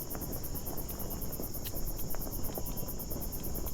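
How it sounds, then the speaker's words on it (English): Steady cricket ambience in a Game of Thrones video game: dense continuous chirring with a pulsing high trill, constant and fairly loud over a low background hiss, no voices. "What is causing the crickets?"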